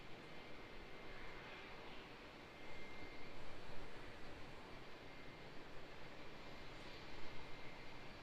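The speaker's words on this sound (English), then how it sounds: "So we've got another prop on the move over there from the domestic regional side." ATR 72 turboprop taxiing at Auckland Airport, heard from a spotting spot as a steady, distant engine drone and broadband roar that swells slightly midway, with no talk.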